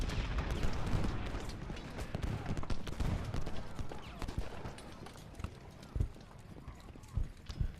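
Massed troops firing in a Civil War battle at Gettysburg in a strategy game, crackling volleys of musketry blending with hoofbeats and battle noise, with a voice talking over the fighting.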